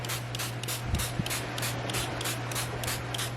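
Liquid aminos sprayed from a pump bottle onto cubed tofu in a kitchen, a steady run of quick, even hissing spritzes, close and loud, with no talk.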